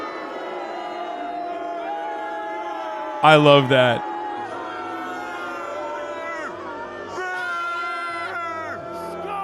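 A crowd outside a politician's resignation speech, overlapping shouts and jeers, with one loud burst of yelling and a voice speaking over the noise.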